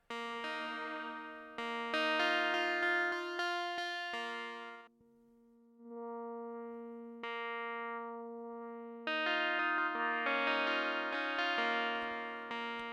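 Guitar on a teo-5 played through a Walrus Audio Qi Etherealizer pedal while its tone control is adjusted: sustained, shimmering chords and single notes with chorus-like wash and distortion, swelling and fading across the passage, fairly quiet, with no talking.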